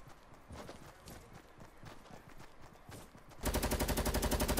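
Rapid gunfire in a video game squad match, a steady loud burst of fast repeated shots that starts abruptly partway through after a stretch of quieter in-game footsteps and movement.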